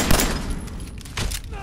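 Rapid gunfire from the Fallout 4 video game bursts at the start and again near the end, with a steady dense rattle between, loud and close, mixed with other game sound.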